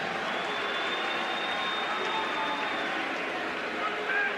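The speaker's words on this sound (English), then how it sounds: "It's a big round of applause for Pat Jackson." Sustained crowd applause and cheering at a knockout boxing event as boxer Pat Jackson is introduced, a steady broadband roar of clapping filling the hall throughout.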